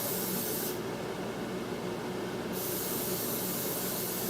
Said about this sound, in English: So a nice little butter and oil on their side of the field to get them nice and crispy and brown.